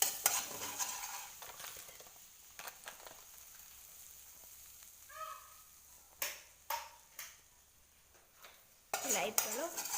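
Masala popcorn mixture with salt being stirred, utensil scraping and clinking against a pot in scattered bursts, mostly quiet between with a few sharper knocks near the end.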